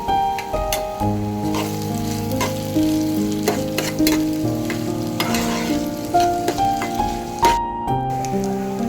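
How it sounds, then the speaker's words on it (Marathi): Garlic frying in hot oil in a pan for a Malvani prawn masala, with a steady crackling sizzle and occasional stirring clatter, heard under background music and with no talking. "पहिली लसूणच घालायची तेलामध्ये."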